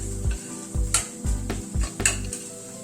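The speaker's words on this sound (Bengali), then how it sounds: "নারকেল কোড়াটাকেও একসাথে কড়াইশুঁটি পেস্টের সাথে একটু নাড়াচাড়া করে নিচ্ছি।" Grated coconut and pea paste stirred in a pan on a low gas flame, with several rhythmic scraping strokes about every half second over a faint sizzle, close and alone.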